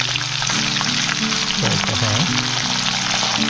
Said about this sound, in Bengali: সুন্দর, অনেক সুন্দর করে মাছগুলো ভাজা হচ্ছে